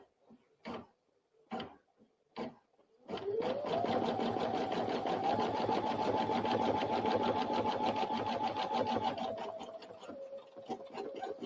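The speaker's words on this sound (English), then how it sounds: "now I'm going to stitch back over those stitches, and then I'll trim off these excess threads" A Brother NQ1700E sewing and embroidery machine runs a continuous fast stitching whir for about seven seconds, loud and close, preceded by a few separate clicks and short taps.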